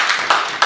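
Several bursts of hand clapping from an audience at a political speech, three quick loud pulses, close and sharp with no talk over them.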